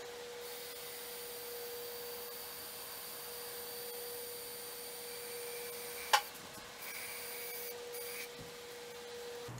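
A wood lathe turning slowly at 100 RPM while lacquer is sprayed onto a vase gives off a steady, faint mechanical hum with a constant tone, broken once by a brief sharp click.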